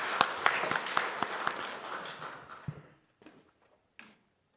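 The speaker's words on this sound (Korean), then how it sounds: "하나님께 영광의 박수 올립니다." A church congregation applauds during a Sunday morning service, a dense crowd clapping for about three seconds before thinning to a few scattered late claps and falling quiet.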